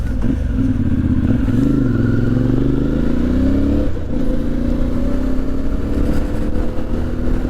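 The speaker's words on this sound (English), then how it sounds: "these little bikes sound nice" A CFMoto 450MT motorcycle engine drones steadily and close by, its pitch rising and falling as the rider shifts through gears while moving along.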